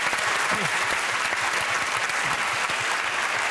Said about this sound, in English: that applause was a little bit weak considering that's a week of his life